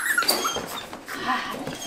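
A puppy whimpers up close in a quick run of thin, high whines and yips over about two seconds, with no voices.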